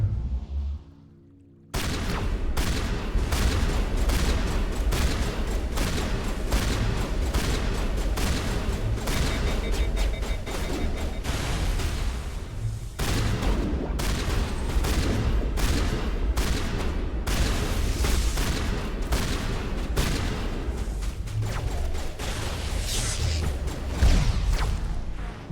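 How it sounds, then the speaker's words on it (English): Rapid gunfire bursts crack repeatedly through a firefight in the video game Mass Effect, including sniper shots, loud and dense with sharp transients throughout, and no clear speech. "Sniper fire."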